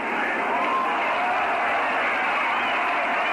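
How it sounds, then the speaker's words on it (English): A 1969 Mets baseball crowd at a home game against the Expos in New York, a steady, broad roar of cheering over a radio broadcast, continuous and fairly loud with no break. "The crowd got a little excited there"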